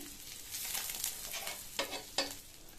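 Eggs fry in a pan with finely chopped curry leaves scattered over them, a steady close sizzle with a few sharp scraping or turning clicks near the end; no voices.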